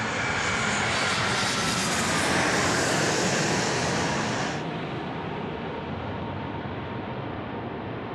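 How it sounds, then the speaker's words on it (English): Qantas Boeing 787 landing at night on runway 16R at Sydney Airport, a loud continuous roar of engines that fades a little toward the end. "we're going to turn our attention over to the Qantas 6, which is currently on finals now for runway 16 right in from Perth"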